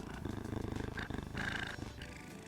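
A close, rumbling purr pulses in a steady rhythm, loud and continuous, likely a voice imitating a cat.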